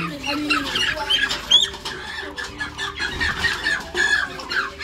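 Several chickens cluck and squawk close by in a busy, overlapping chorus, with some faint chatter in the background.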